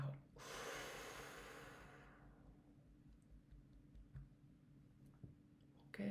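A slow guided breath drawn in, heard softly and close, fading away over a few seconds into quiet room tone.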